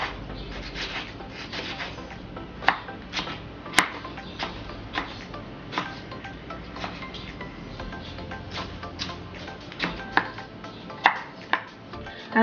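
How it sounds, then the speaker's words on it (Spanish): A knife chopping three tomatoes on a cutting board in a home kitchen, with steady, fairly close chops that repeat throughout and a few sharper, louder strikes; no one speaks. "3 tomates vamos a picar."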